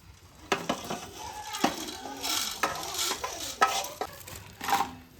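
Spoon stirring Tyson chicken pulimunchi in a pan with oil, repeated scraping and clinking strokes against the metal over a faint sizzle, close and fairly loud.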